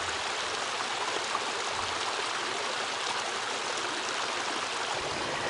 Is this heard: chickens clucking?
no